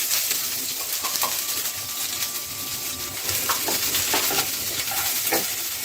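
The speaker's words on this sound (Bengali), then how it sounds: "এবার আমি দিয়ে দেব হাফ কাপ পরিমাণ পেঁয়াজ কুচি" Half a cup of chopped onion sizzles steadily in a pan for shrimp pulao, stirred with scattered scraping clicks and light taps of the utensil over a constant frying hiss.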